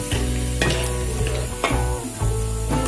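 Ginger sautés in hot coconut oil for mango pickle with a steady, close, loud sizzle. Periodic scrapes of a spoon stir it in the pan.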